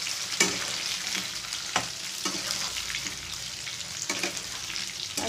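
Raw green mango slowly frying in oil for pickle, a soft steady sizzle under several sharp scraping knocks of a spatula stirring the pieces.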